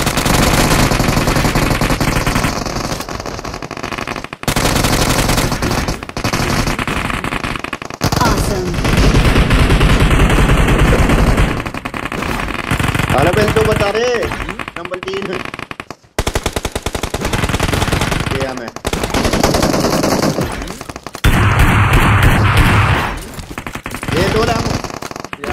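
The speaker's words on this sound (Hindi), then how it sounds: "बस हाथ में गन है तुम्हारे बंदे मारने" Gunfire in the video game Ace Dominator: loud, rapid machine-gun bursts fire almost continuously in long runs separated by brief gaps, with a person talking over the shooting.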